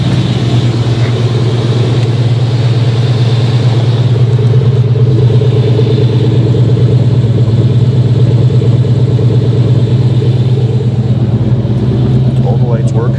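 An old truck's engine idles with a steady, deep rumble, loud and close, running unbroken throughout while voices come and go over it.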